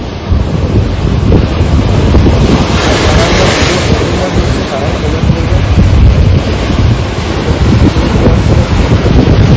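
Sea waves break and roll onto Tajpur beach in a loud, continuous roar, with heavy wind buffeting the microphone throughout.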